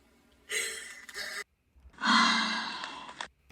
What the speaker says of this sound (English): Breath sample.